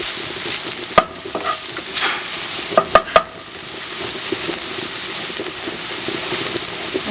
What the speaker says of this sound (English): Give it a stir, and you can see that they're getting to be that nice golden color.